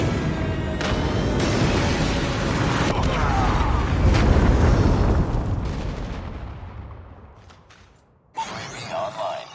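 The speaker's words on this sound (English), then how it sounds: "Airstrike incoming." Airstrike explosions in Call of Duty roll together into a sustained, heavy, thundering barrage that slowly fades, followed by a brief burst of other game sounds.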